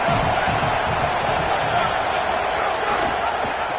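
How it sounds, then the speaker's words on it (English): Home crowd at an American football game roars steadily throughout, a loud, dense wash of stadium noise with no break. "Now this home crowd making life difficult."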